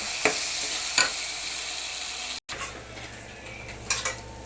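Tomatoes with turmeric frying in a pan, a steady close sizzle punctuated by a few spoon clinks and stirring scrapes, with a brief cut midway and no talking.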